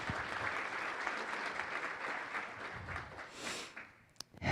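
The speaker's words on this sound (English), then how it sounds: "if you could just take a moment to give them a round of applause" Audience clapping at a legislative roadshow meeting in Boise, Idaho, fairly faint and fading out after a few seconds, followed by a couple of close knocks and handling sounds.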